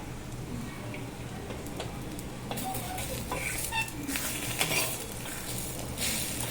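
Karandi omelette egg frying in a ladle over a medium flame, giving a soft steady sizzle with light clinks and scraping from utensils in a quiet kitchen.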